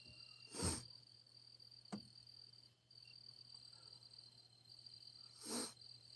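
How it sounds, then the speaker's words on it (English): Crickets trill steadily in the background at dusk on a calm evening after a tornado, with a faint, continuous high chirping and a couple of brief nearby bursts of noise. "Can y'all hear the little frogs and crickets and stuff?"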